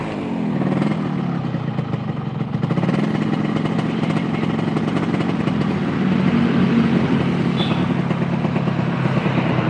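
A repaired motorcycle engine runs steadily and loudly for the whole stretch, a continuous close rumble with a slight clattering texture and no clear revving.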